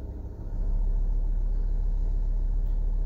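Mercedes Sprinter van engine rising from idle into a steady, louder low rumble as the accelerator is pressed, close and continuous, with no voices.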